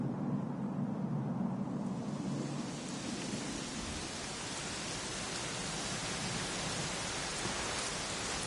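Steady rain falls in the Dragon Quest XI video game, a dense, continuous broadband hiss with a soft low rumble in the first seconds, evenly sustained throughout with no voices.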